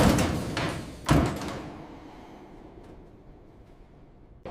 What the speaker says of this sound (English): The doors slammed shut immediately.